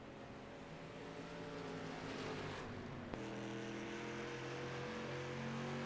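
Street stock race cars roar around the North Wilkesboro oval, a steady loud engine drone with overlapping cars blending into a continuous pack sound and one car's pitch shifting midway.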